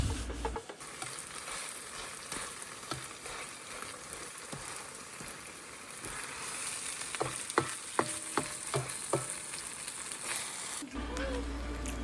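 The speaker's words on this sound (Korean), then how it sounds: "밭에서 이제 고추랑 방아를 따가지고 전 만들려고 지금 하고 있습니다" Batter for Korean vegetable pancakes made with chili peppers and bangah herb sizzles and crackles steadily in a hot pan, with occasional scraping taps of a utensil, close and continuous.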